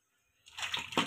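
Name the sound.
water poured into fish curry pan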